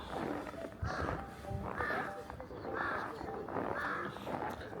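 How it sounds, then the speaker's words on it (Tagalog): A crow caws repeatedly, about four harsh calls in a loose rhythm, set against outdoor background noise and faint footsteps at a snowy Bibai Snowland in Hokkaido, Japan. "Narinig niya yung uwak."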